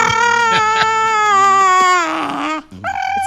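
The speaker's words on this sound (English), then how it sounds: "I've never heard a dog roll its tongue before." A dog's high, wavering whine with bright harmonics while being kissed, cry-like and continuous for a few seconds, breaking off briefly before resuming, close and loud.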